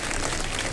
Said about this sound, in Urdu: ایک دفعہ اپنے لیے آپ لوگ بھرپور تالیاں بجا دیجیے